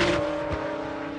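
A McLaren race car at the 1996 Le Mans 24 Hours sweeps past with a steady high engine drone and a brief swell as it goes by, fairly loud and close, with no talk over it.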